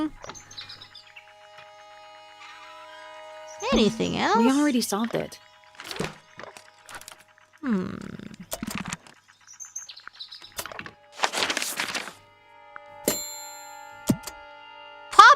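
Chirping birdsong from the Tangle Tower video game sounds in short bursts between stretches of speech, with humming tones and scattered game effects around it.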